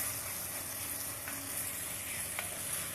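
Beef mince and black beans fry in a pan with a steady, quiet, broadband sizzle and a couple of faint stirring clicks, with no voices over it.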